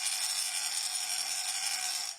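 Fishing reel drag buzzing steadily as line is pulled off by a big wahoo, a fast continuous high-pitched ratcheting whir, loud and alone, stopping abruptly.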